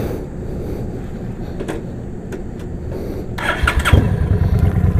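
A motorcycle engine at night near a dumpster, idling low and rough, then rising louder and revving near the end.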